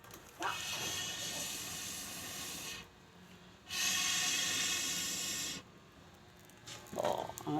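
Strong, steady breaths blown through a blow pipe into a wood-fired clay stove while boiling corn, each a sustained airy rush lasting a few seconds, close and loud, separated by short pauses.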